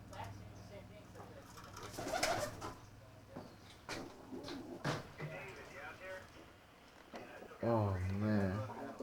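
Spangle stock pigeons coo softly in a loft, with low warbling calls around the middle and end, while people talk nearby and objects clatter.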